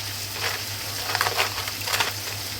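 A couple of cinnamon stick pieces hit hot oil in a pan while cooking mushroom paneer masala, giving a steady, close frying hiss with brief crackling bursts and no talking.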